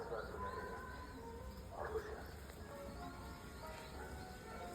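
A pet pigeon coos softly in a few low, throaty bursts, close by, over a steady background hiss with faint chirps.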